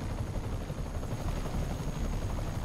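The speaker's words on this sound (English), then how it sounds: "now they're bringing in I helicopters" Helicopter arriving in the Spider-Man video game, a close, steady rotor thump and roar filling the whole stretch with no talking.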